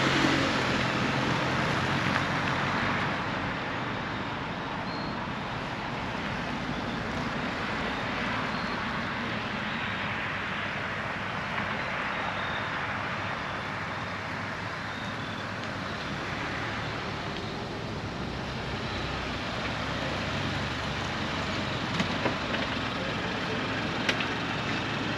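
A truck fitted with off-road LED pod and ditch lights drives along at night, its engine and tyre roar a steady, broad rumble that holds at an even level for the whole stretch, with no talking.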